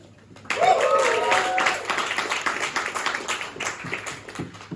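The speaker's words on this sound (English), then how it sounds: "A big set of applause for our host, Lauren." A small comedy club audience in Malmö breaks into clapping after a brief quiet start, with a short whoop at the onset and then a steady patter of close, individual hand claps continuing to the end.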